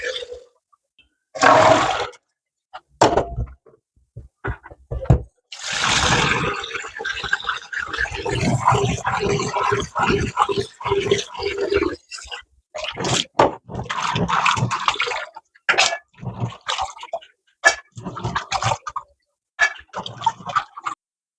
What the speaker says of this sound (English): first things is to wash my beans